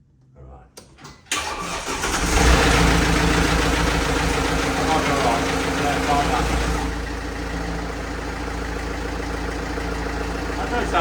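A salvage car's engine cranks briefly, catches and starts, then settles into a steady, loud idle close by while people talk nearby.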